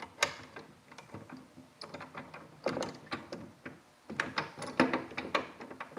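Metal bar sliding into a bracket on a Toyota Tacoma truck, close clicks, scrapes and ratchet-like rattles in irregular bursts, some sharp knocks.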